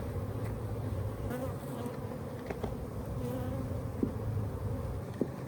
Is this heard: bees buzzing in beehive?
yes